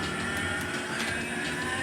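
A cow moos in a DOS-era PC game on a Packard Bell corner desktop, a loud, steady, slightly tinny low lowing call that fills the short moment with no talk over it.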